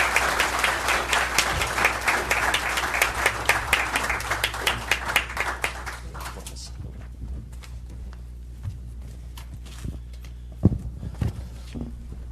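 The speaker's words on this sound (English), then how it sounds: "Another round of applause for these two." Audience applause at a city council meeting, loud dense clapping for about seven seconds that then thins to scattered claps and faint room noise.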